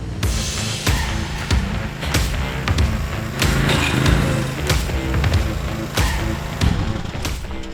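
A riding lawnmower engine drones loudly and close up while being driven into a metal gate latch, with repeated sharp metallic bangs and clanks punctuating the steady rumble.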